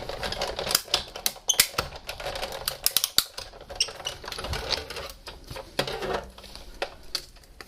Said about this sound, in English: Let me put the second cutting plate on top, and then let's run this through.